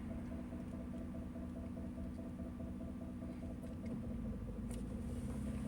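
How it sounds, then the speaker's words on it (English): Inside a moving car, a quiet, steady low engine and road hum drones on without a break, with no voices over it. "I'm in the car right now"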